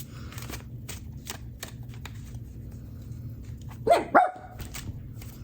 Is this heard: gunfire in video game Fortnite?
no